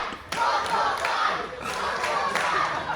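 A crowd of fans at a live wrestling event in Loughton shouting and clapping for one more, a loud rowdy roar with rhythmic claps and stomps, close and continuous throughout.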